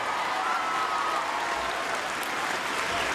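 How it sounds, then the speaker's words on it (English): Audience at a live event applauding steadily, a dense wash of clapping with some cheering mixed in, continuous and fairly loud throughout with no distinct stomping evident. "Let's give him some applause and some cheering, and go ahead and stomp your feet"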